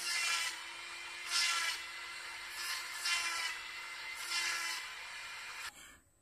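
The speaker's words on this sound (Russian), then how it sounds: "Заканчиваем шлифовку вот такой вот алмазной. Ой, даже не это не алмазная, это вулканическая такая насадка" A power sander fitted with a volcanic abrasive attachment works on knife fittings, producing a steady whirring grind with a faint constant whine, swelling in louder passes and cutting off abruptly at the end.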